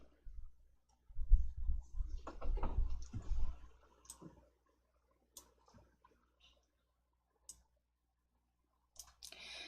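A computer mouse clicks sharply, isolated, close and quiet, during spreadsheet work in Excel. Muffled handling noise and a soft voice come early, then sparse single clicks follow amid near silence.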